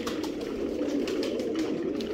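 Pigeons coo steadily while they eat grain in winter, a soft, continuous low cooing close by with a few faint higher chirps on top.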